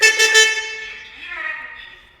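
An NRX Moto 500 scooter sounds its horn, giving a few quick, loud toots followed by a longer, fading electric honk, close by and alone.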